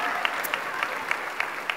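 Applause for volunteers at the 2013 Centraide Outaouais campaign launch, soft and fairly distant, a steady wash of clapping with faint periodic louder claps.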